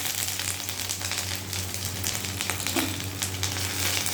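Ginger paste frying in hot oil with lentils and whole cumin makes a dense, continuous sizzle near the mic, with occasional stirring scrapes and a low hum underneath.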